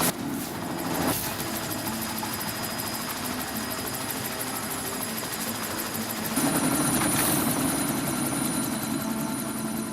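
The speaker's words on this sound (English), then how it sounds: "You've got to stop that chopper." A helicopter in Deus Ex: Mankind Divided thrums with a continuous rotor chop and engine whine, holding steady and growing slightly louder partway through.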